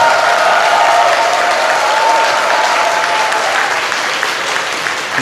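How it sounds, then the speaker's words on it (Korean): Church congregation at a Korean Liberation Day united Christian service breaks into loud, continuous applause, a thick even roar of many hands that holds steady and eases slightly near the end. "한 번 더 큰 박수 부탁드리도록 하죠"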